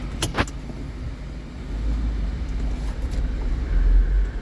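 A 2008 Jeep Wrangler with a 6-speed manual and 120k miles drives down a street, heard from inside the cab as a steady low engine and road rumble that swells louder toward the end, with a couple of brief clicks early on.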